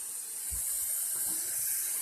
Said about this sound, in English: I'm putting water in my pot here